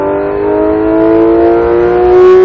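A Porsche GT3 RS engine on a race track pulls hard under acceleration, its loud, rising near howl climbing steadily in pitch through a gear, heard up close without talk.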